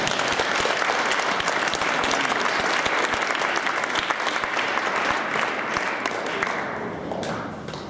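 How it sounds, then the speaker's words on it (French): A crowd at an environmental debate in Mauricie applauds the participants, loud dense clapping with some individual sharp claps standing out, tapering slightly near the end. "On peut les applaudir, ils travaillent fort"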